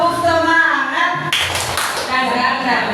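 Schoolchildren and their teacher at an elementary school do a rhythmic cheer clap. Chanting voices run throughout, and a burst of clapping breaks out in the middle.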